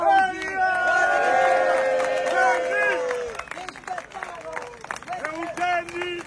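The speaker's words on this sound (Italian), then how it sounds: "guarda che bella gente, applausi!" Crowd at a Neapolitan fish market, with loud shouting and cheering voices at first, then scattered claps and lively chatter among the people.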